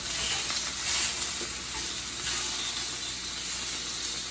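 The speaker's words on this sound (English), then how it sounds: "just sear these on all sides real fast" Chicken thighs, already cooked sous vide, sear in a hot pan with a steady, loud sizzle and hiss that runs unbroken throughout, close up and with no talking.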